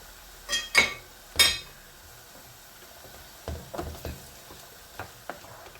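Chopped tomatoes and green chillies frying in a pan, with soft sizzling and a few sharp clinks and scrapes of stirring. The clicks come close together early on, then sparser scrapes follow.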